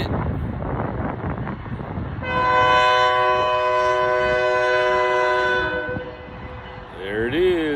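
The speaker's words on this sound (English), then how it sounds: "There it is. The smart train." A SMART commuter train rumbles past up close along the Petaluma River, its horn sounding a long, loud multi-tone blast for several seconds, with a short rising toot at the end.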